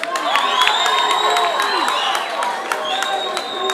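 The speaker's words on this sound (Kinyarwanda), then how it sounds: "Mumutera amashyi menshi cyane." Audience applause and cheering at a live concert in Muyinga, a steady crowd roar with scattered claps and whistles sustained throughout, fairly loud and close, with voices mixed into the noise.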